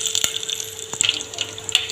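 Mustard and cumin seeds spluttering in about two spoons of hot oil for a North Karnataka peanut sambar, giving a few sharp, scattered pops over a steady background hiss, with no talking.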